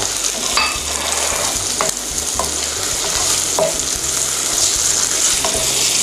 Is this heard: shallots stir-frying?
yes